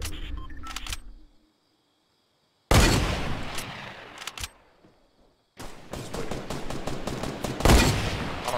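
Loud bursts of gunfire from a Fortnite duos match, with two dense rapid volleys separated by sudden silences.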